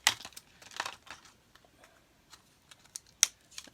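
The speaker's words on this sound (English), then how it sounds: "let me cut these out" Scissors snip plastic ties off fresh doll packaging up close. Faint, scattered clicks and crinkles of plastic come in short bursts with quiet gaps between them.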